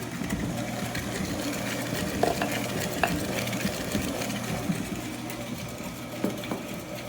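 An electric mixer churns white sugar and brown sugar blend for reduced-sugar chocolate chip cookies, a steady close motor whir with a low droning hum and occasional faint clicks of the beaters against the bowl.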